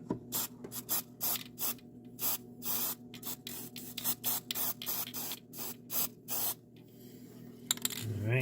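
Spray adhesive hisses out of a can held upside down while a Porsche Boxster is being serviced. The bursts come close and sharp, some short and some long, with gaps between them.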